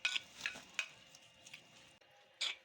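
Chicken being mixed by hand with spices and food colour for shawarma, giving soft wet squelching and scraping bursts in an irregular rhythm, close and fairly quiet, with no talking.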